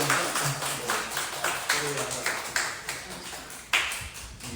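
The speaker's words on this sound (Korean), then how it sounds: "우리 서로를 향해서 박수 한번 쳐줄까요?" A church congregation applauds one another during a Sunday service, a burst of many hands clapping at close range with sharp individual claps standing out and a louder surge near the end.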